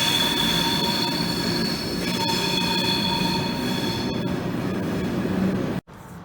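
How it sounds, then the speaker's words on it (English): A train rolls steadily past in Düsseldorf with rumbling wheels and high metallic squeals, loud and nearby, ending in an abrupt cut. "There goes one of the trains right there."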